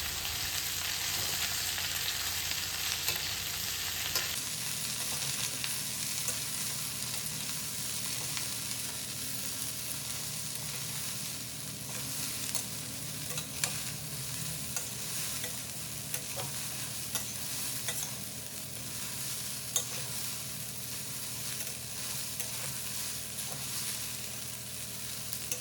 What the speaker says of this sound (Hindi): अब हम इसमें कटी हुई भिंडी डाल देंगे और उसको अच्छे से इसमें फ्राई करेंगे